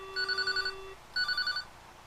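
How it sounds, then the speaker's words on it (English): Two bursts of rapidly pulsing electric ringing from a field telephone bell on an LP10 Polish switchboard line, each under a second long and separated by a short gap, loud and close with no talking. "It still rings this phone."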